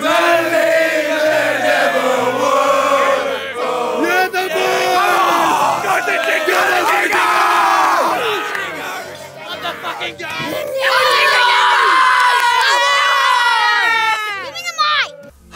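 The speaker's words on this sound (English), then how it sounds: "That halftime crowd was absolutely popping off." At halftime of a school football game, a crowd cheers and yells loudly and continuously, with children's shrill voices standing out and a brief lull midway before the cheering swells again.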